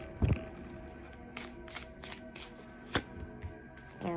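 A tarot card deck being shuffled by hand, with close, crisp papery riffles and soft slaps of cards in irregular bursts, including a few sharper taps.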